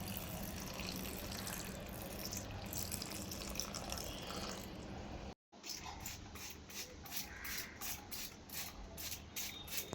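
Water sprayed over house plants during daily watering: a steady hiss of spray and trickling water runs throughout, broken by a brief pause midway and followed by rhythmic, repeated spray bursts.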